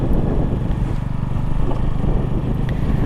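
A motorcycle holds a steady ride in second gear, its engine a loud, continuous low rumble with wind noise close by and no talk over it.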